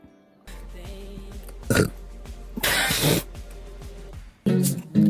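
A VTuber lets out several separate burps, short loud bursts between quieter pauses, close to the microphone.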